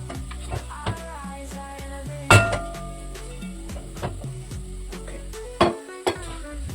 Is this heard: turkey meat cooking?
yes